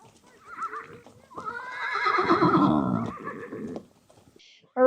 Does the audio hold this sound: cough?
no